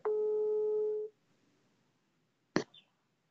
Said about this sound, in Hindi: रिंग तो बहुत अच्छा जा रहा है